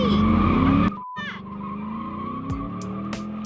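A 1967 Fastback does a burnout, its engine roaring under sustained, loud tire squeal with a brief drop as the revs change, then the screech and engine drone carry on.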